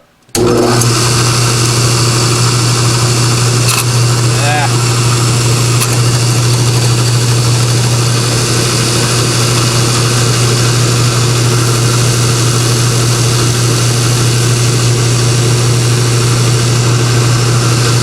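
A 6 volt generator spins steadily on a generator-alternator-starter tester, a loud continuous motor whine with a strong low hum that starts abruptly and holds constant throughout.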